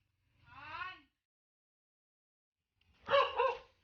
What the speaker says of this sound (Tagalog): sabi sa inyo, may sasalubong ditong aso